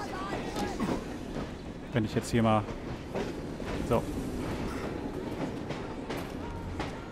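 Train rolling along in Assassin's Creed Syndicate, a steady rumble with clattering and a brief whistle-like tone, under a man's speech.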